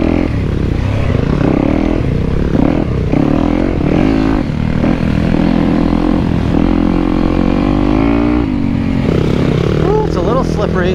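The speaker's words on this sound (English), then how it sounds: "we're gonna ride two wheels with Willie" A Yamaha YZ250X two-stroke dirt bike ridden on a motocross track, with a loud, close engine that revs and drops continuously for the whole stretch, recorded from the rider's position with wind rush.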